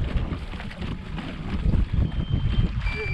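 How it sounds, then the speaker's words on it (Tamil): Strong wind roars across the microphone at Mettur Dam on the Cauvery River, a steady, loud, buffeting rush with low rumbling gusts that fills the whole moment. "காத்து சரியான காத்து வருதுண்ணா."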